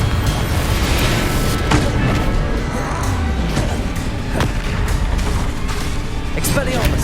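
Blasting-spell explosions and combat effects in a Hogwarts Legacy haunted Hogsmeade shop battle, a dense continuous din of booms, impacts and crashes with several sharp hits, shouted voices mixed through the chaos.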